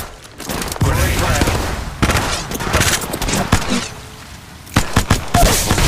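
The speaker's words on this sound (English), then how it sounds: "Taking fire." Gunfire in the mobile battle royale game Apex Legends Mobile: loud bursts and rapid volleys of shots crack in clusters with pauses between, mixed with game sound effects.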